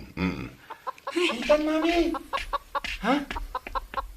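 A chicken clucks in a quick series of short, close calls, mixed with people talking.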